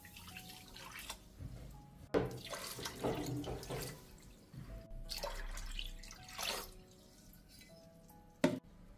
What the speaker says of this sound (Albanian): Ndërsa ujë do të shtoni 1 litër e gjys ujë